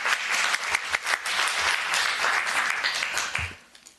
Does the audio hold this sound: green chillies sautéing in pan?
no